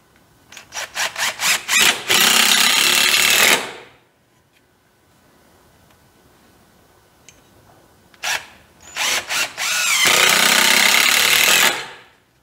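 A power drill driving a screw while working on a 1940 Chevy, two loud bursts of stuttering trigger pulses that build into a sustained whine, separated by a quiet pause.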